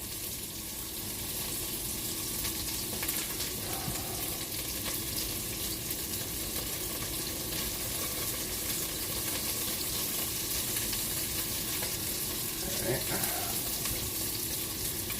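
Pieces of food sizzling and frying in a pot as they are flipped over for color, a steady close crackle with faint clinks of a utensil and no talking.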